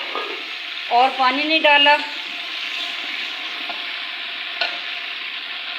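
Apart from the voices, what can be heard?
tamarind poured into frying spices, sizzling and stirring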